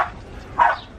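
A pet dog on a garden homestead gives two short, sharp barks at close range, one right at the start and a louder one just after, with quiet in between.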